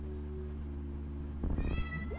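A cat meows from about halfway through, a single rising, drawn-out call that stands out clearly over a steady, droning background hum.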